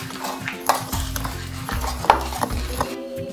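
A spoon stirs gari soaking in a bowl, giving close, repeated scraping and clinking strokes against the sides in an uneven rhythm, with one sharper tap midway and no talking.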